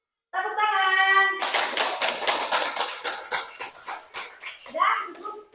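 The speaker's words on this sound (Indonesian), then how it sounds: "Tepuk tangan." Classroom of students clapping after a group presentation: a sung or hummed tone opens, then scattered, uneven hand claps of moderate loudness that thin out near the end, with a voice briefly audible.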